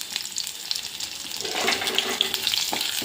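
Garlic sautéing in a pan with dal, a steady bright sizzle that grows louder midway, with a few soft stirring scrapes.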